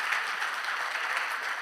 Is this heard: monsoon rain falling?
no